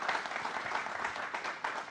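A seated studio audience on a Bihar politics and startup discussion show applauds steadily, a dense even wash of clapping with no speech over it.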